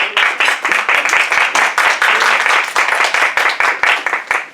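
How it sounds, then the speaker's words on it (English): Brisk, close applause from a small audience at a Toastmasters club meeting, individual claps clearly distinct in a fast, even rhythm that carries on steadily throughout. "We can give Tambu a round of applause"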